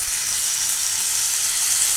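Chopped tomatoes sauté in a pan for broccoli prawn masala, giving a steady, even sizzling hiss with no voices.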